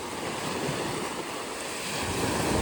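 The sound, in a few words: sea waves on a beach, Havelock Island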